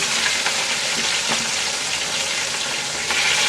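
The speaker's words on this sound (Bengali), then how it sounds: "মাছগুলো একদম লাল করে ভেজে নেব" Rohu fish pieces frying in hot oil until deep red, a loud, continuous close sizzle with faint crackles and occasional stirring clicks throughout.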